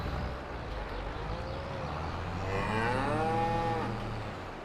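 Cattle lowing in the farm game Farming Simulator 22: two drawn-out moos, the second louder and fuller, rising and falling over a steady low farm background hum, with no talking.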